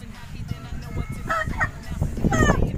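Gift chickens, a Basilio line cock and hen, in Calumpit, Bulacan, give a few short clucking calls against steady low background rumble and murmur, with faint voices nearby.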